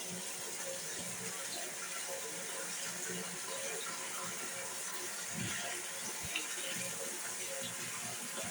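Steady, dense rush of pouring water with no breaks, like heavy rain falling continuously close by.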